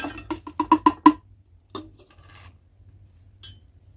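Pineapple peels tumble into a clean glass jar for passion fruit tepache, giving a quick run of about six close clinks and knocks, then a few softer scattered taps fading to quiet.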